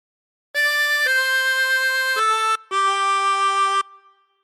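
A 16-hole tremolo harmonica plays the second phrase of Amazing Grace, four sustained notes in a slow, steady line with a brief gap before the last, each with a shimmering reedy warble, alone and close.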